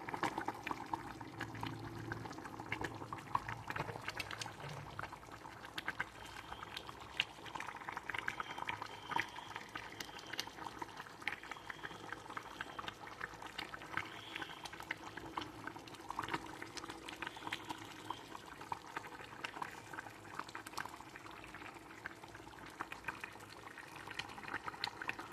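Fish curry (chepala pulusu) simmers in a pot, giving a soft continuous bubbling with small pops and crackles, faint and steady throughout with no talk.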